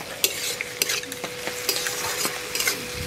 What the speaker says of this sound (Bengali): নেড়ে চেড়ে ভালো করে ভেজে নেব।